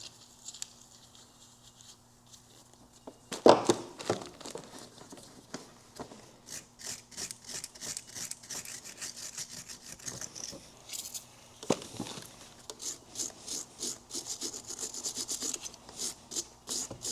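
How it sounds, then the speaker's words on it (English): Scrubbing corrosion from the battery contacts of a Polaris Sportsman 570 ATV with battery cleaner, a dense run of short, close rasping brush strokes that starts after a quiet opening and keeps a quick, uneven rhythm. "It's a good time to clean whatever corrosion exists on these contacts."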